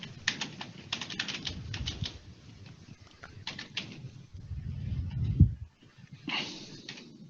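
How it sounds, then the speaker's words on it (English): A computer keyboard is typed on in quick clustered bursts of clicks, close and moderately loud, separated by short pauses, with a few heavier thumps and no speech. "Okay, so I'm typing in Google"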